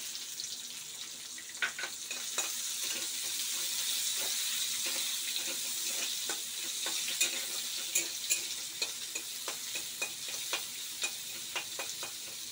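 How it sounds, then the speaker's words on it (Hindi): Onions frying in a pan until golden, a soft, continuous sizzle with light crackling pops at moderate distance. "पियाज गोल्डन कलर हो गला पियाज भाजी हो गला"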